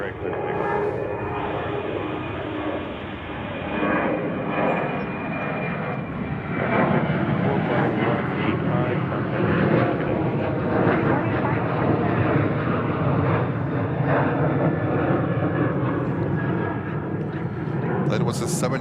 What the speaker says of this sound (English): That was a 737. Lots of noise.